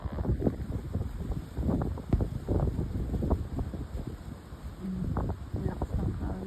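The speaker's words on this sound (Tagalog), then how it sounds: "lakas ng hangin, guys." Strong wind sweeps across a boat, roaring in dense, uneven low gusts that buffet the microphone almost continuously.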